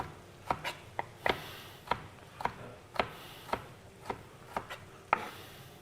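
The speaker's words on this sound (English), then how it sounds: "Cut your pepper." A kitchen knife slices through a pepper on a cutting board, producing about a dozen crisp, close chops in a loose, unhurried rhythm, with no one talking.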